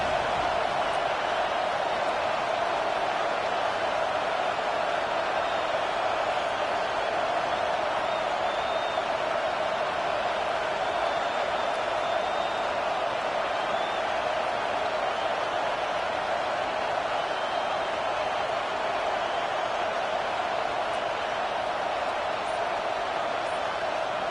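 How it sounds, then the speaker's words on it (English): Stadium crowd at a Penn State home football game against Illinois, roaring for the defense on a big third down; a dense, continuous wall of distant crowd noise holds steady throughout with no speech. "Big third down as the crowd gets behind this defense"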